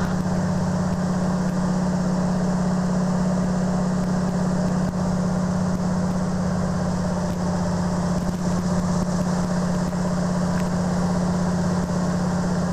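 An empty de Havilland Beaver seaplane just after takeoff, its radial engine droning loud and close inside the cabin, a steady uninterrupted hum with a strong low tone and broad rushing noise, no talking.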